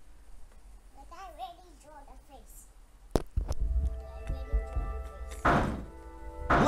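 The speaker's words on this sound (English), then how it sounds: "Bang all you want, it won't open." In Zero Time Dilemma, heavy thuds bang against a locked door in irregular blows, close and loud, following childlike babbling speech, with a further burst of noise near the end.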